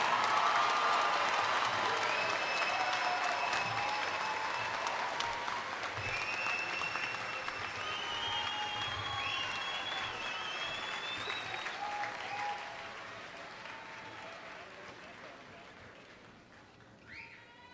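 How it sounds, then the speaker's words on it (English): Commencement crowd at the University of Arkansas Fort Smith applauds graduates of the College of Languages and Communication, loud sustained clapping with whistles and cheers that gradually thins and fades toward the end. "Please join me in applauding the graduates from the College of Languages and Communication."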